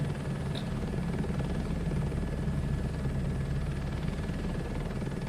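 A helicopter in Microsoft Flight Simulator 2024, flying over farmland with small roads and a dike. Its steady, loud rotor and engine drone fills the whole stretch without a break, and no one speaks.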